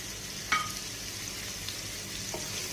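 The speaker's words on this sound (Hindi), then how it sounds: "प्याज को, लहसुन को और अदरक को हम लाइट सा गोल्डन करेंगे हाई फ्लेम के ऊपर" Steady sizzle of onion, garlic and ginger frying over high flame in a pan for Lucknowi chicken biryani, with a couple of brief clinks partway through.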